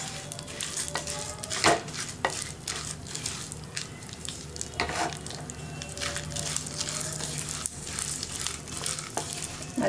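Pumpkin and watermelon seeds dry-roast over a low flame, with a soft crackle and repeated scraping and stirring strokes from a spatula, one sharper knock early on.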